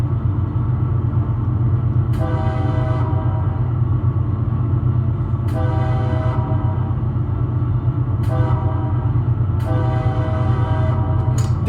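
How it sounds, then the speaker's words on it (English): A CSX GE GEVO locomotive in the Run 8 train simulator sounds its horn in four long blasts over a steady low engine and rail rumble. There is no talk. "This horn kind of sounds like it belongs on a Dash 9, not a Gevo"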